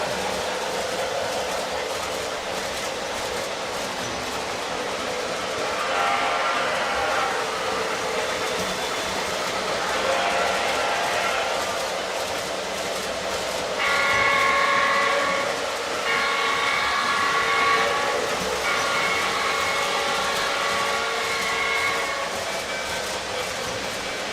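A model Baldwin Shark diesel locomotive runs on a layout with a steady rumbling, rolling drone, and its horn sounds in several sustained blasts partway through, fairly loud and close, with no voices.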